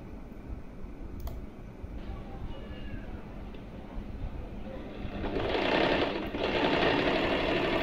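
Sewing machine running, a faint rapid mechanical chatter that grows louder and denser in the last few seconds, with a couple of brief clicks earlier on.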